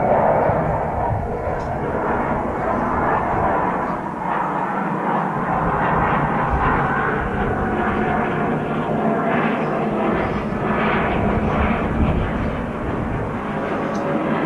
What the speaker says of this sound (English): Wait for that jet to go by.